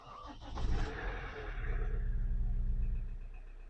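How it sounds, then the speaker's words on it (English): A Chevrolet Captiva SUV, unused for a week and a half, cranks and fires on the first try with a brief loud burst, then settles into a low, steady idle rumble. "And listen to the engine when I start it up."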